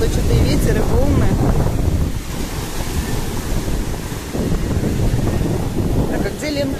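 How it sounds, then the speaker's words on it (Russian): Steady wind buffets the microphone while Black Sea waves wash and surge continuously nearby at a beach in Nikolaevka, Crimea, loud and roaring throughout. "что-то и ветер, и волны"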